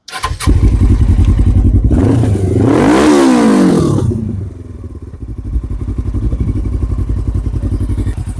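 A 2007 Suzuki GS500F motorcycle engine firing up and running, a loud close rapid thrumming idle that rises in a brief rev then settles back into a steady throbbing beat.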